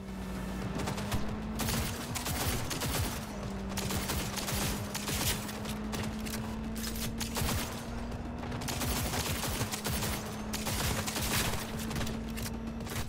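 Rapid bursts of gunfire crackle almost nonstop during a fight in the video game Cyberpunk 2077, loud and dense over a steady low hum, with no voices.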